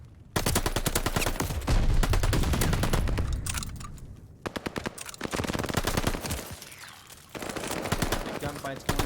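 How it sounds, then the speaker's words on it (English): Rapid automatic gunfire rattles through a Call of Duty-style esports hardpoint fight, long bursts cut by brief pauses, loud and close with a caster's voice running underneath. "Gunfight's going down inside of this hardpoint."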